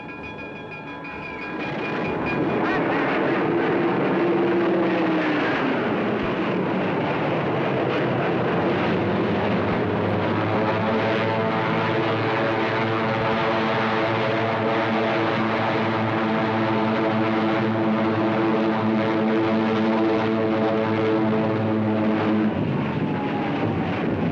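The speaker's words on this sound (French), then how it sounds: "5 escadrons de Hurricanes et de Spitfire se sont levés des pistes et ont pris les airs" Hurricane and Spitfire fighter planes of 1940 taking off, a loud, sustained piston-engine roar that swells after the first seconds and holds steady throughout, with rising and falling engine tones.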